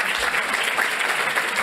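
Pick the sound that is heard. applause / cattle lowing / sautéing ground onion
applause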